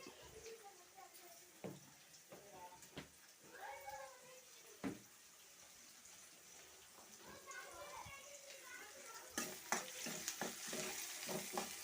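A spoon stirs turmeric, salt, ginger garlic paste and curry leaves in a hot pan, giving soft scraping and light sizzling with scattered sharp clinks, while a voice talks nearby.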